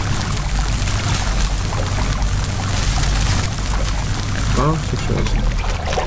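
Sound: water pouring in the video game Puddle

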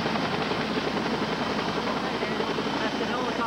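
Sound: helicopter landing

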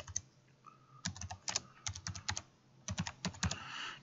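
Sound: typing search keywords on a computer keyboard

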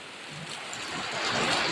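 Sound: rain falling

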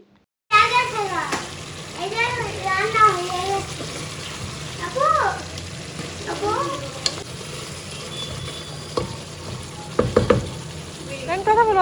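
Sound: duck meat being sautéed with spices in a pan

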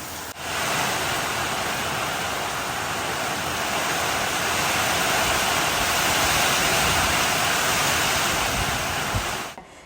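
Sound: heavy rain falling

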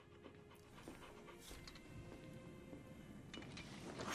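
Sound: puppy dog panting in Final Fantasy XVI video game

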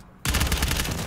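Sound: gunshots in a video game match

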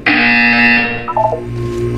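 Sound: buzzer from a video game

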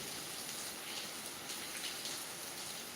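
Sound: heavy rain, water falling off tin roof sheets

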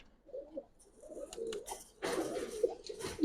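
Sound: pigeons cooing

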